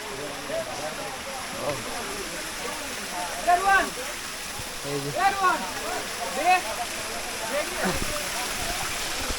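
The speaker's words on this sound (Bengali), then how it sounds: "এটা হচ্ছে মায়াবী ঝর্ণা সিলেটের" A steady wash of water trickles over the rocks of the Mayabi waterfall in Sylhet while the flow is low, heard as a constant hiss beneath continuous nearby talking.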